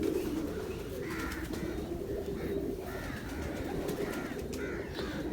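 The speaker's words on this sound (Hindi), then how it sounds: "इनका ना सियालकोटी कबूतर हैं बहुत अच्छे" Sialkoti pigeons cooing in a loft, several soft repeated rolling coos at moderate distance over a steady low background hum, with no talking.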